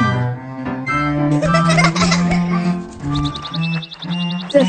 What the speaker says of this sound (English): The birds are singing along.